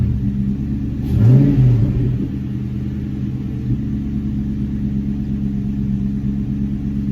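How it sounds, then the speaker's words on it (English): A New Edge Mustang GT V8 idles with a deep rumble, then a single quick throttle blip swells the engine pitch up and back down before settling to a steady idle, loud and close with no talking. "Give it a little blip of gas."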